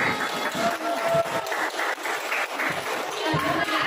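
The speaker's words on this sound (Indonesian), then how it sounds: "Beri tepuk tangan." Group applause during an academic supervision coaching session, a brief burst of clapping from a small gathering, uneven and fairly close, with a little voice mixed in.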